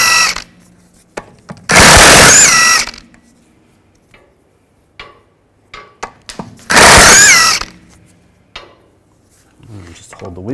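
Lug bolts on a 2006-10 Volkswagen Jetta rear wheel are spun out with a 17 mm socket on a power tool: two loud, whirring bursts of about a second each, separated by quiet clinks and shop noise.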